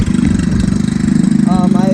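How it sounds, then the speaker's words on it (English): X15 super pocket bike engine idling close by, a loud, steady, fast low putter with someone talking over it. "I mean, it's idling perfect, as you guys can see. It'll sit here and idle forever."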